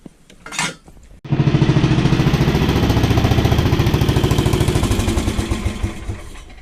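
A 1975 Sears Suburban ST16 garden tractor with a Tecumseh engine starts up and runs close by, a loud steady rapid chugging that holds for several seconds after a brief rattling start.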